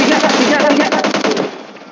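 Loud pistol shots in PUBG Mobile fire in a fast, dense string, then fade out toward the end.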